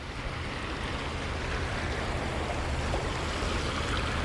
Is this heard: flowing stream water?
yes